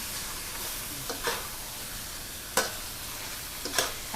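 Long eggplant fries with fresh shrimp in a hot pan, giving a steady hiss of sizzling oil broken by a few sharp scrapes and taps as the mixture is stirred.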